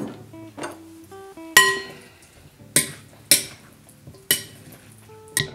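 Tomatoes with olive oil and balsamic vinegar are stirred in a dish, producing sharp, close clinks of a utensil against the bowl at irregular intervals over soft background music, with no talking.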